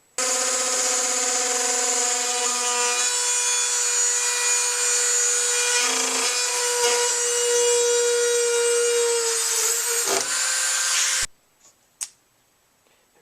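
A Dremel rotary cutoff tool whines at high speed, cutting the corners off a flexible metal 3D-printer build plate. The steady loud grind changes pitch as it bites, then cuts off, leaving a couple of faint knocks.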